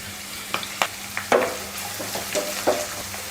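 Onion and curry leaves frying in hot oil in a home kitchen, a steady sizzle broken by several sharp crackling bursts and spatters as the pieces hit the oil, close and fairly loud with no voices.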